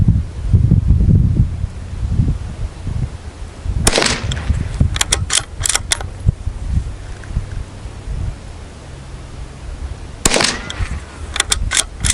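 Several rounds fired from a bolt-action rifle outdoors, sharp reports spaced out over the span, with wind noise and low rumble between shots.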